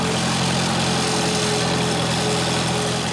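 A tractor engine runs steadily on a family homestead, a loud continuous close drone with no breaks or changes in pitch.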